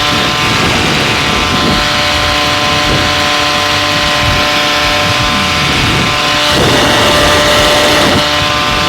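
An aircraft engine in a video game runs hard with a loud, steady droning roar and constant tonal hum that swells slightly near the end, no speech over it.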